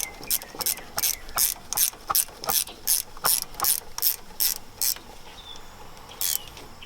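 A ratchet wrench tightening a bolt on a 2008 Ford F250 brake assembly, with about a dozen quick, close, even clicking bursts in a steady rhythm, then a pause and one last burst, no talk.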